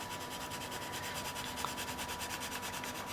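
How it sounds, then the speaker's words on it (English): Colored pencil is burnished hard onto paper, producing a faint, continuous rhythmic rubbing in quick back-and-forth strokes, close up and quiet, with no voices. "I'm just burnishing it down quite hard so that we get a nice even colour"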